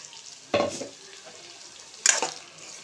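A spoon stirs a blended tamarind, salt and chili mixture into capsicum masala curry in a pan, giving two short scraping, sizzling bursts separated by quiet simmering, close and alone.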